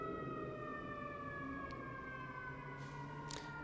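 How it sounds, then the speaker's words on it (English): An ambulance siren sounds in the distance as it passes, a wavering, layered wail under a steady background hum, with faint brief clicks near the end and no speech. "let's wait for these ambulance to pass."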